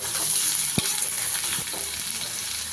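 Chopped ivy gourd (dondakaya) fries in a pan with a steady, close hiss of sizzling oil, broken by a sharp knock or two and light stirring scrapes.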